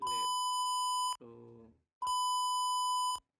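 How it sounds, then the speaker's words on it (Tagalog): An Arduino buzzer on a breadboard sounds two long, loud, steady electronic beeps about a second each, with a brief stretch of voice between them. "ayun yung ating buzzer pin at yung ating LED"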